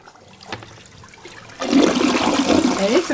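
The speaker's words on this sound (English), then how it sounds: "And it's a quick flush." A new toilet flushes quickly: after a quiet start with a faint click, a loud rushing gush of water bursts in and swirls steadily close to the listener, with no talking.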